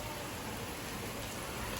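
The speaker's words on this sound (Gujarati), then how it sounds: "તો જો વરસાદ ચાલુ થઈ ગયો છે મસ્ત મજાનો" Monsoon rain falls steadily outdoors, a soft, even hiss of drops that stays constant and fairly faint throughout, with no voices.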